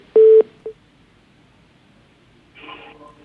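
Telephone dialing while reconnecting a dropped call during a Hindi phone-in talk show: a loud steady tone burst with a short click, then a quieter warbling ring-back or dial tone near the end.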